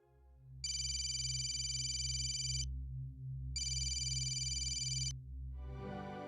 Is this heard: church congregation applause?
no